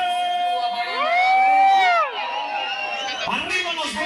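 A crowd at a sonido dance party for a village patron-saint anniversary fiesta in El Carmen Tequexquitla lets out a loud, sustained collective yell that swells, then drops into scattered shouts and cheers.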